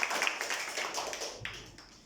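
A classroom of young students clapping for a classmate who answered correctly, a quick, soft patter of many hands at close range, fading out after about two seconds.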